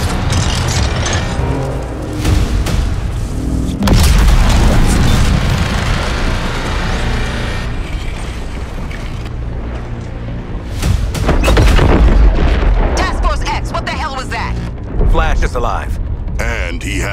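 Heavy artillery shelling in a Suicide Squad: Kill the Justice League battle, with loud, deep booms rolling in at intervals over a dense din of combat, a big blast near the start, another mid-way and a cluster near the end, with voices heard in between.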